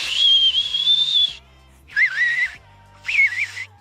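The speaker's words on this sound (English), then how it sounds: "we're getting there with the fingerless whistle" A fingerless whistle is blown through the teeth in three bursts: a long, wavering high tone, then two shorter ones with warbling pitch, each separated by quiet pauses.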